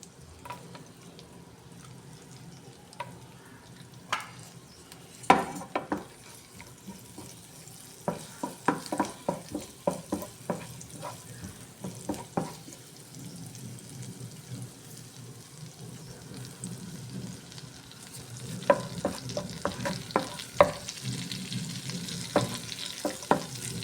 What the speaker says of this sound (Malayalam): ബട്ടറും ഓയിലും ചൂടായി കഴിഞ്ഞിട്ട് അതിലേക്ക് ഒരു 3 ചെറിയ വെളുത്തുള്ളി ഒന്ന് വാടാൻ ഇട്ട് കൊടുക്കുന്നുണ്ട്